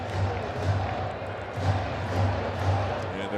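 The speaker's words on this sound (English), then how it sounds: "getting louder here at Camden Yards. A pretty nice crowd here on this sunny Saturday" Sizeable baseball crowd at Camden Yards in Baltimore on a sunny Saturday afternoon, a steady wash of distant stadium murmur that swells and surges in waves, with low rumbling chatter and occasional cheers rising through the ambience.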